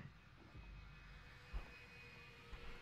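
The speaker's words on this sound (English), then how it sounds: "Watch the plane." An airplane in the video game Left 4 Dead 2 passes overhead with a faint, low engine rumble that holds steady, broken by a couple of soft thuds.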